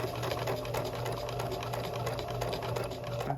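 Kenmore 385 series sewing machine running steadily while an automatic buttonhole attachment stitches a buttonhole, a continuous close mechanical whir and rapid needle chatter with a low motor hum throughout.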